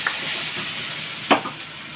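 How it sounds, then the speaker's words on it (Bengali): Mutton curry is stir-fried in a pan, giving a steady close sizzle with a few scraping stirs of a spoon against the metal. "এবার সেটা দিয়ে দেবো, দিয়ে আবার কষবো"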